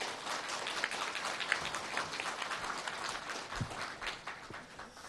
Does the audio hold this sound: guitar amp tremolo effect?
no